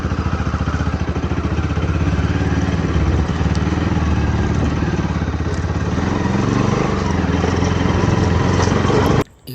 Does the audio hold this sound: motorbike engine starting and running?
yes